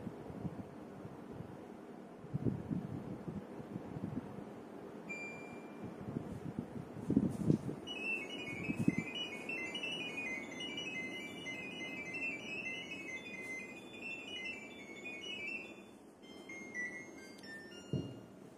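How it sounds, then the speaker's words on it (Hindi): Phone-played data tones for LG air conditioner smart diagnosis, a rapid warbling run of high electronic beeps lasting several seconds, heard at moderate level over room noise with a few thumps and clicks. "तो आपने सुना बीप साउंड के बाद एक और साउंड जो कोडिंग वाला होता है वो बजा"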